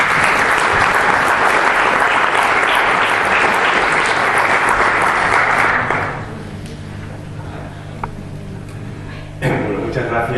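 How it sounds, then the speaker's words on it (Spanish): Conference audience applauding a speaker, loud dense clapping for about six seconds, then fading into room noise with a single thump near the end. "espero que le demos un fuerte aplauso."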